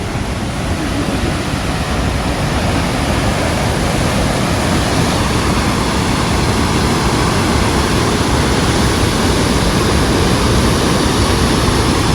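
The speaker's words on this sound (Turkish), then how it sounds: "Gelmişken de bu şelaleyi görmüş olursunuz." Waterfall: a loud, dense, steady roar of falling water that stays constant and close throughout, with no voices.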